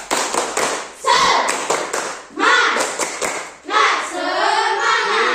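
A class claps out a rhythmic spirit routine in sharp grouped bursts of hand claps, loud and close, with children chanting along between and over the claps.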